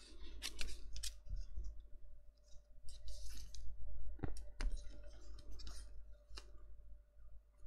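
Scissors cut through paper for a handmade Bohemian-style mini album, a handful of crisp, close snips and clicks spread unevenly over several seconds with small handling noises between them.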